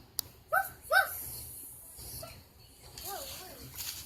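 A few short, high-pitched yips and whimpers from a puppy, spaced out, with quiet background noise between them.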